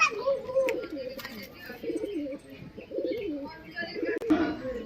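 Murshidabadi Giribaz flying pigeons coo in low, throaty rolling calls, several overlapping at close range, with a brief sharp knock near the end.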